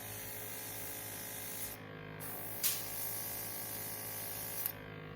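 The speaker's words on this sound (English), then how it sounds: "when you just pump some of it through, it'll start to clear out the nozzle and everything" An airbrush spraying reducer through its nozzle to clear it makes a steady, quiet hiss with a faint motor hum underneath, briefly cut off twice by short pauses or clicks, and no talking.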